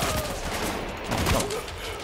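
Rapid gunfire from the action shooter video game iTown, a dense loud burst of overlapping shots and a fusillade that fills the whole moment with little pause.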